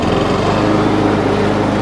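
A lawn mower engine catches on its first start and runs loudly and steadily up close, a dense high-revving drone with no pauses for the whole stretch.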